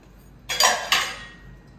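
Pots and utensils being washed and scrubbed at home, heard as two close clattering clinks of metal dishware against each other in quick succession, with no talking.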